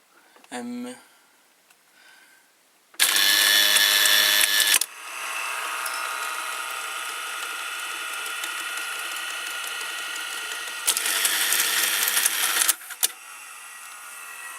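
Betamax VCR loading a cassette, its belt and motor running: a close, loud ratcheting mechanical whir in bursts, with a steady motor hum between them and a brief click near the start.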